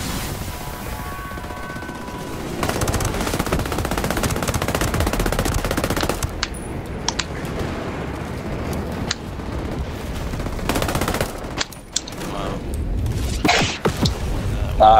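Automatic and rapid gunfire bursts in Tom Clancy's Ghost Recon Breakpoint during a three-player raid, loud and nearly continuous across the span, with heavier booming shots and brief pauses between volleys.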